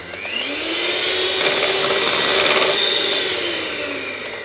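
An electric mixer runs at top speed, beating self-raising flour into batter for an Italian apple and almond cake, a loud, steady motor whine that swells slightly and then eases off.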